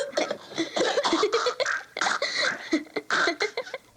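Several rough, bursty coughing sounds in quick succession, close and fairly loud, made by a voice imitating someone choking on smoke.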